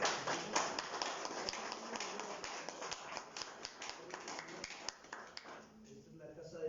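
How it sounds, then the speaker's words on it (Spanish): A church congregation claps together in a dense, steady run of sharp claps, moderately close, while a voice carries on beneath and the clapping thins out toward the end. "Denle un aplauso al Señor"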